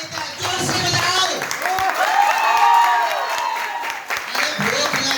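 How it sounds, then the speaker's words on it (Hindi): Audience applause at a gathering, a short burst of clapping mixed with crowd noise and a speaking voice over it, moderately loud. "उस गुरु का नाम के लिए एक बार जोरदार ताली"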